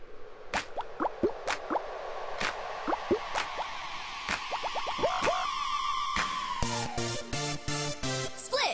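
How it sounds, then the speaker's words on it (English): Watery drips, plops and squishy splashes in a quick irregular series, close and clear, with bouncy wet sounds building and repeating toward the end. "Splish, splash, the water's perfect."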